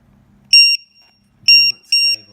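A low-voltage battery alarm on a Tamiya TT02T Sand Shaker RC car gives three loud, shrill electronic beeps in a broken rhythm, very close, with someone talking faintly between and under the beeps.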